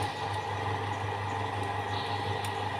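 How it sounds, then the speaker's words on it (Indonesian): A car engine idles at a steady, even hum with the alternator connected and charging, a continuous loud drone with no change in pitch and no voices. "ketika dia terjadi pengisian, maka suara daripada mesin itu akan semakin keras"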